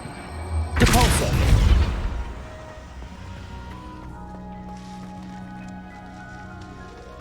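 A Depulso spell in Hogwarts Legacy hits with a loud forceful whoosh and thump, then fades into a quiet sparkling, ringing tail that lingers for several seconds.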